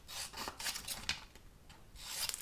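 Vinyl sheet being trimmed for a cutting-machine project, a close, dry scraping and rasping in short uneven strokes with no voices.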